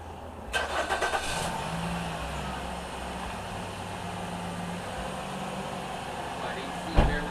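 A Nissan Rogue with a bad AC compressor cranks with a short burst of starter chatter, catches, and settles into a steady idle hum with the AC running, ending in a sharp knock, while faint voices talk nearby.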